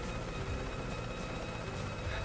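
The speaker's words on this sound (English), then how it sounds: "I wanted to be this missile bombarding helicopter more." A missile-bombarding helicopter in the video game Yooka-Laylee gives off a loud, steady whirring rumble that fills the short stretch without a break.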